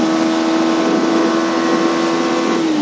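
A car accelerates hard in fourth gear, its engine a loud, steady drone that climbs gradually in pitch, close up and continuous with no talk.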